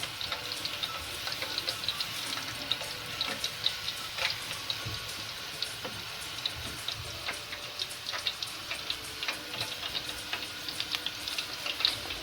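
Ground meat and onion for Turkish karnıyarık sautéing in hot oil in a pan: a steady soft sizzle with scattered small pops and crackles throughout, fairly close, with no speech.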